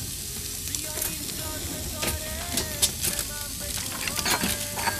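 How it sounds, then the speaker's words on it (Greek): Leek, carrot and garlic stirred in a hot pan, a steady soft sizzle and frying hiss with light scraping and stirring taps, close but fairly quiet, and a voice speaks faintly underneath. "Ανακατεύουμε."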